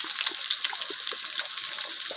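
Sliced onion dropped into hot oil with whole garam masala spices and bay leaves for biryani, giving a bright, dense, continuous sizzle that crackles steadily close up, with no one speaking.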